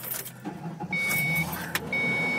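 Someone getting into a car on a hot day, with a soft thump and rustle followed by a steady interior hum and a faint high electronic tone, heard close up inside the cabin.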